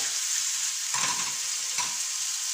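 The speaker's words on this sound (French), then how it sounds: "quand le beurre est noisette, on vient y déposer notre viande" Beef patty searing in nutty browned butter in a frying pan, a steady loud sizzle and crackle throughout with a couple of brief bursts as the meat is moved.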